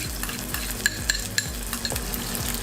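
Garlic fries in an electric multi-cooker with a steady close sizzle, while a utensil stirs in quick rhythmic strokes and clinks lightly against the pot several times.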